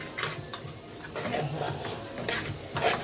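Tashweeha sautéing in a pan for rice, a continuous close sizzle with repeated stirring scrapes and spoon sweeps across the pan, moderately loud and without speech.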